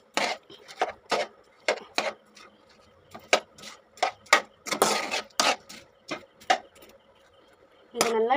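Fried pakoda tipped into cornflour gravy in a pan and stirred, a run of close, distinct spoon-on-pan knocks and scrapes in an uneven rhythm, fairly clear against a quiet background.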